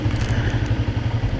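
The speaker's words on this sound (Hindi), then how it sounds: "तो इस पे अब कदरे हम बेहतर बाइक ड्राइव करने में कामयाब हो रहे हैं।" A motorbike rides along a rough mountain road in Chikar Valley, Azad Kashmir, its engine a steady close rumble with low pulsing throb and rattling road noise throughout, no talk.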